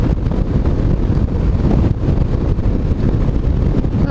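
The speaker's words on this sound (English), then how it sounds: "As always, a bit windy up here." Strong wind buffets the microphone on an exposed hilltop, a loud, constant rumbling roar with gusty fluctuations and no voices.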